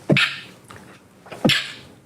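Two sharp sneezes about a second and a half apart, loud and close, each a quick inhaled catch followed by a bright burst.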